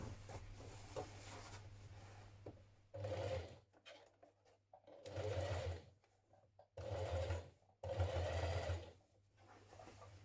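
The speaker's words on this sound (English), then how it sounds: "we're going to top stitch from the right side" A sewing machine topstitches a seam on dungarees in several separate runs, each a steady close mechanical whir of a few seconds, separated by brief pauses and a low background hum.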